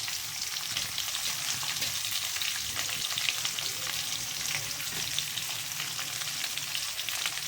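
Onion and cabbage frying for fried rice in a pan, giving a steady, even hiss and crackle of sizzling oil with light stirring scrapes, close and alone with no talk.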